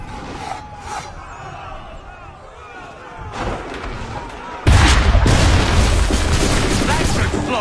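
A cannon fires at redcoats in Assassin's Creed 3, a single heavy, loud boom partway through. Battle noise and crowd shouting follow it, with a voice speaking beforehand.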